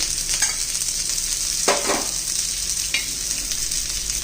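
Bitter gourd slices fry in oil over a medium gas flame, giving a steady close sizzle with a few brief scraping stirs, no voices.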